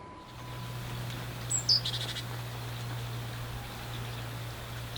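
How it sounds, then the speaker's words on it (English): A goldfinch in a garden allotment in February gives a couple of brief, faint high chirps amid a quiet outdoor background with a steady low hum. "I think that's a goldfinch."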